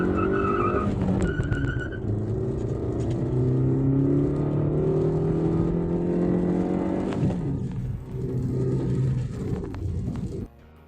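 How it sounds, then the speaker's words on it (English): Maruti Suzuki Baleno with a 1.2 litre K-series petrol engine, revving with the air conditioning off, its pitch climbing and falling across repeated throttle blips; loud and close, with no talk. "let's check out the throttle response of this machine"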